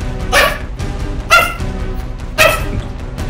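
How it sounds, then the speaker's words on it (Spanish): A dog barks three times at a steady pace, each bark loud and close, with a low background hum between them. "Pero tú, ¿por qué estás ladrando tanto?"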